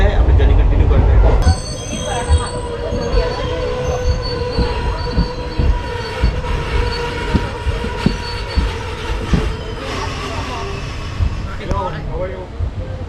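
The Chennai Express running between Hyderabad and Chennai Central, heard from aboard as a steady rolling rumble of wheels on rails with rhythmic clacks and a faint squeal, a loud burst opening the stretch.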